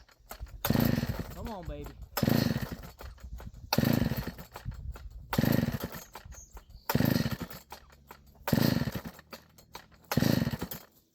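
A McCulloch chainsaw engine struggles to start, with six or seven repeated pull-cord bursts in a steady rhythm, each a short sputtering rasp that dies away. Loud and close, with someone speaking briefly between pulls.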